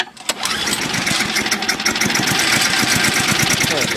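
Lawn equipment with a small engine cold-starts in winter: a sharp start, then rapid, uneven, sputtering pops that settle into a fast, rough idle, loud and close, with a voice briefly present.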